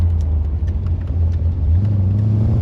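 A 1980 Corvette engine hums and growls steadily up close, its low pitch rising slightly as it revs while driving, with faint clicks above.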